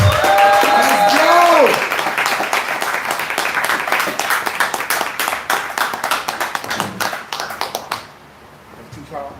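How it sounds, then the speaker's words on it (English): An audience claps and cheers a poet onto the stage at a live poetry event. Dense applause swells loudly under a host's amplified talk and whoops, thins into sparser claps, then fades out near the end. "Y'all clap her all the way to the stage."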